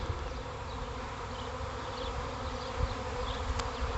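A clustered honey bee swarm on a tree's leaves gives off a steady, soft, even buzz, with a few individual bees droning past close by now and then.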